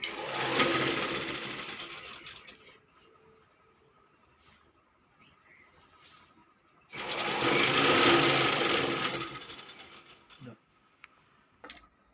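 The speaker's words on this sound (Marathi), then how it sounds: "याप्रमाणे आपल्याला साडीला जोडून मधमध टीप मारून घ्यायची आहे" A sewing machine stitches old sarees together into a quilt in two loud, close bursts of rapid mechanical whirring, separated by a quiet pause with faint clicks and handling noises.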